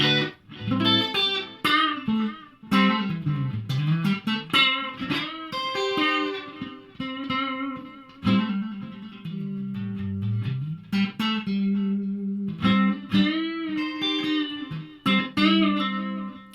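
Electric guitar plays chords and single-note runs through a budget 2x12 combo amp, washed in shimmering chorus and trailing delay repeats.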